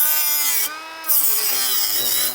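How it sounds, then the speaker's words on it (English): A cutoff wheel shrieks through cooling-system hoses and clamps on a DeLorean engine, a loud, high, harmonic whine that dips briefly, then bites back in and keeps cutting. "So we can get violent and use cutoff wheels and hose clamps."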